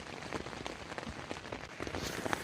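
Steady rain patters on a waterlogged camping tent, a dense, close, continuous hiss of drops with no talking.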